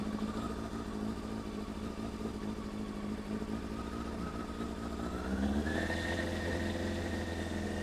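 A Honda Hornet 600 motorbike with a running issue idles steadily up close, then its engine revs up and holds at a higher, steady pitch while being tuned.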